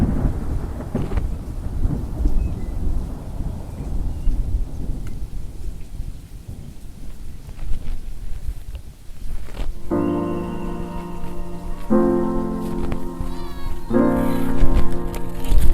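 Midday rain falls steadily during a fishing outing while low thunder rumbles, the downpour dense and close throughout, with a run of tonal, music-like bursts appearing near the end.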